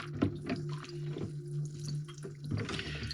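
Model kit parts for a 1:48 scale Panavia Tornado soaking in water in a sink, with soft drips, sloshes and small splashes against a steady low hum, fairly quiet and close.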